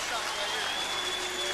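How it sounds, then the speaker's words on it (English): Boxing arena crowd reacting after a points decision in a bout involving Kostya Tszyu and Hector Lopez, a steady, dense wash of crowd noise and scattered applause filling the hall without a break. "And Czyu hears the boos of some of the crowd"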